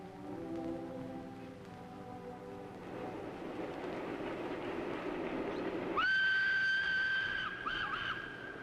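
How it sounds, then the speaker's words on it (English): A train rumbles steadily through the Münster Valley, with a brief sustained whistle-like tone cutting in near the end over the continuous rolling noise. "In a third-class compartment on a train rolling through the Münster Valley"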